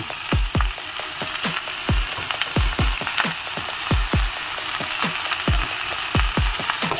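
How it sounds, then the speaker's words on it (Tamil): Chopped onion frying in hot tempering oil for a spinach stir-fry, a steady close sizzle broken by repeated sharp scraping or stirring clicks in an uneven rhythm, with no talking. "இப்போ இந்த தாளிப்பு நல்லா செவந்தெடுத்து பொடியாக கட் பண்ண வெங்காயத்தை இதில் போடலாம்"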